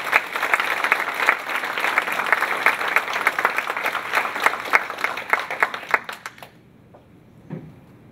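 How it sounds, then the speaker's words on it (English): An audience applauds a speaker being introduced at a San Francisco technology campus event, loud, close clapping that holds steady, then stops abruptly, followed by near silence with a brief faint sound. "Please give a big round of applause for Kenyatta."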